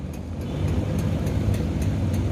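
A steady low engine rumble from a newly arrived ABG intercity bus, close by and fairly loud, with faint regular ticking above it; no talking.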